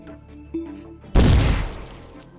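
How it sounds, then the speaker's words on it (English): A bomb goes off in the video game Brigade E5, a sudden loud boom with a long rumbling decay after a few quieter game noises. "The explosion sets off the base"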